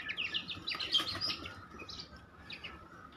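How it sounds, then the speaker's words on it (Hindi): Several Aseel chicks chirping close by, a cluster of high, thin peeping tweets overlapping in busy bursts that thin out toward the end, with no talk. "ये माशाल्लाह 10 असील चूज़े मेरे पास"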